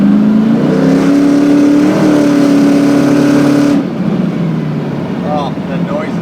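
A 1972 Dodge Challenger with a 426 HEMI engine revs loud and close, a rising and holding roar that cuts off abruptly, leaving a lower idle rumble with faint voices.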